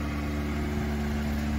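A right-hand-drive 1990 Subaru Sambar KS4 4x4 mini truck runs at a high cold-start idle, giving a steady, even engine hum with a constant pitch and no voices.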